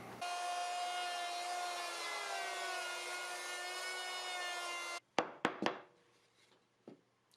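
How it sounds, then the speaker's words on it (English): A power router runs through wood with a loud, steady, high whine that sounds like a grinding cut. It stops abruptly, and a few close knocks and handling noises follow. "So we're going to route by hand."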